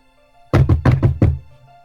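Five quick, close knocks on a door land in a tight rhythm, loud and dry with no voices over them.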